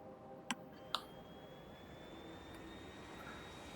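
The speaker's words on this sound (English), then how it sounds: "The plane is so slow after having driven the train." A plane in the video game Factorio flies with a steady, faint, smooth engine drone, preceded by two sharp interface clicks.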